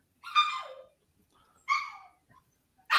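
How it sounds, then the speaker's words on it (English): A small dachshund puppy whimpering and crying, with two drawn-out whines a second apart, a faint trailing squeak and a third cry starting at the cut, all close and alone without talk. "I hear somebody's dog crying"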